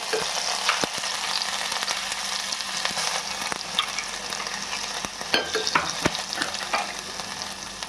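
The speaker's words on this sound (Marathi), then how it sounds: "आपलं तेल छान असं गरम झालेलं आहे. त्याच्यामध्येच मी लसूण अद्रकची पेस्ट घालून घेते." Garlic-ginger paste sizzles steadily in hot oil while making bottle gourd kofta, a dense close frying hiss with scattered sharp crackles and stirring scrapes, no voices throughout.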